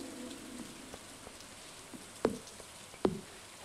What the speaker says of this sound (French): Ah mais du coup j'ai pas arrosé, il pleut.